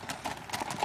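Spotted Saddle Horse hooves clip-clop in a quick, even gaited rhythm on firm ground, fairly faint and close by, with no speech over them.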